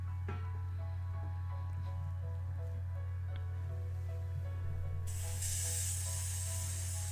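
An airbrush runs with a steady low mechanical hum and faint ticks, then bursts into a broad hissing spray of paint near the end while restoring a 1986 Matchbox Rolls Royce Silver Spirit model car.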